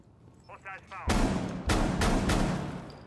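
A shotgun in a video game fires four loud, close blasts in quick succession, each a sharp boom with a short tail, after a few faint voice-like sounds.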